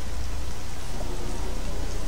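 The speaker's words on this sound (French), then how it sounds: "Ah non, cette pluie est acide." Steady hiss of acid rain pouring down in the video game Jedi Academy, a dense, even wash of falling drops that fills the whole short stretch without letting up.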